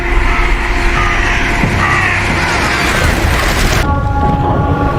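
A loud, storm-like rumble roars through a scene of the TV series The 100, episode Earth Kills: a broad, steady wall of booming noise like thunder and wind that cuts off abruptly near the end.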